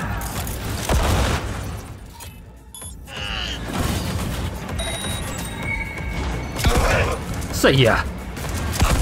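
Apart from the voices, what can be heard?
shotgun fire in the video game Cyberpunk 2077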